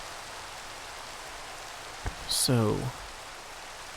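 Steady rain hiss in Minecraft fills the background, with a man's short spoken word briefly rising over it.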